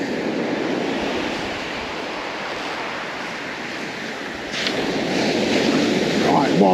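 Waves wash over a shingle beach in a continuous rushing roar mixed with wind buffeting the microphone, swelling louder as a new wave surges in partway through.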